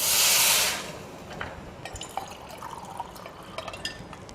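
Water is poured over rice for a vegetable pulao, a loud, bright splashing burst for about a second, then settling into faint drips and small liquid trickles.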